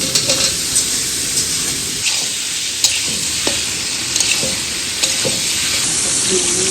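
Fried potato and cauliflower pieces sizzle in spiced oil and tomato with a loud, continuous frying hiss. A spoon scrapes and taps the pan at irregular intervals.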